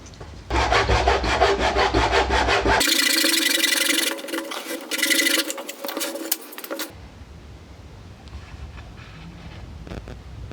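A Japanese dozuki dovetail pull saw cuts through wood in quick, rhythmic rasping strokes, close and loud, then gives way to a harsher, denser scraping burst before fading into faint rubbing and handling sounds.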